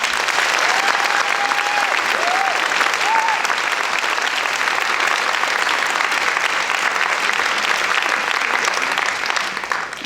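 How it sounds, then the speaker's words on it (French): Sustained audience applause fills a hall during a French bar association (UJA 94) revue, steady and dense for about ten seconds with a few faint vocal tones early on, easing slightly at the very end. "Je vous demande d'ores et déjà de l'applaudir."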